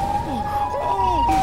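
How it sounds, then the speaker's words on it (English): Wailing sirens from the monster Siren Head in a horror video game, loud and continuous with rising and falling tones, heard close under excited voices. "I still hear the sirens"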